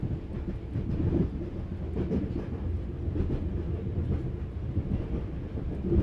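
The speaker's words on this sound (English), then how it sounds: "Your body is soothed with the vibrations of the train's movements" A train moving on rails produces a continuous low rumble with rhythmic rattling and clatter from the carriages, steady and close throughout without any voices.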